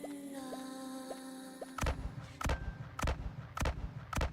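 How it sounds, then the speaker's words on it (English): Electronic tones and chimes give way to five sharp, booming blasts spaced about half a second apart, like rapid gunshots, as a spell is cast in a video game. "That's how you cast magic. It sounds like gunshots."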